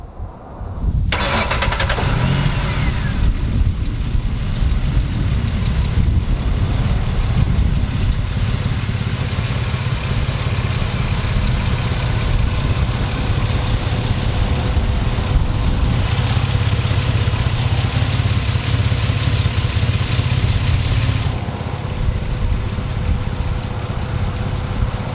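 A 2007 Mercury Mountaineer AWD with a 4-liter single overhead cam V6 cranks and catches, then settles into a loud, steady idle heard close up for the rest of the stretch.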